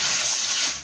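About half a litre of water poured steadily onto corn couscous flour, a loud, close, continuous splashing gush that tapers slightly at the end, with no voices.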